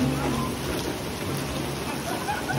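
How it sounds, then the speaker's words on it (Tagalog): Steady rain falling outdoors during a summer shower, a continuous soft hiss with a low rumble underneath, close and even throughout. "It's raining guys."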